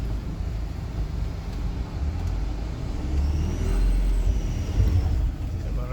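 Vehicle engine on the road to Tarija, Bolivia, a loud low rumble that rises as the revs climb near the middle, heard close from inside the vehicle with road noise.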